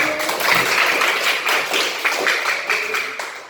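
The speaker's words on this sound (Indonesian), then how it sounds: "tepuk tangan buat semua" A group in a classroom teaching-practice session claps together, a dense, loud burst of applause that holds steady for a few seconds and then tapers slightly.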